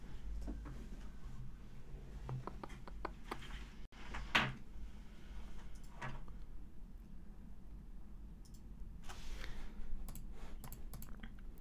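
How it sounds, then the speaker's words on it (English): Quiet clicking of a computer keyboard in short bursts of keystrokes with pauses between them, close and soft, with a louder knock partway through. "I'm just typing some stuff here"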